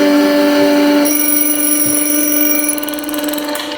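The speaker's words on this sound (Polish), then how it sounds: "Budzik!" An alarm clock rings loud and close, a steady electronic tone that gains a brighter, higher layer partway through and ends in a rapid pulsing trill, with no voices.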